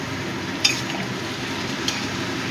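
A spoon stirring and mixing ingredients in a cooking pan while prawn malai curry is made, a soft continuous scraping and sizzle with two brief sharp clinks against the metal.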